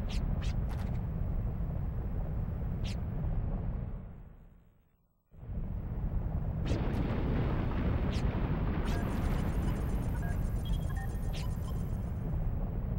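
A rumbling, sustained explosion from the Wild Arms 3 video game, loud and broad, breaking off briefly into near silence before the roar resumes with scattered sharp bursts and crackles.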